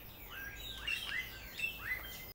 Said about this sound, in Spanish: todas las aves que se escuchan si te quedas calladita